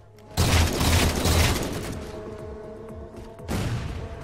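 A grenade explosion in the video game Halo 4: a loud, close boom with a rumbling tail that fades over a couple of seconds, then a second heavy blast near the end.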